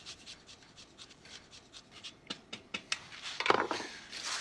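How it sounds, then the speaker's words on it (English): Lemon being zested on a rasp grater, a quick run of rhythmic scratchy strokes that grow louder and sharper toward the end, with no talking. "that little rasp grater there really does well with the lemon zest that I'm putting in here."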